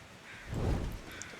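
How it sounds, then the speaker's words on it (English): Crows caw faintly in The Long Dark's winter wilderness, a single brief, distant call over quiet ambience. "Okay, I hear some crows."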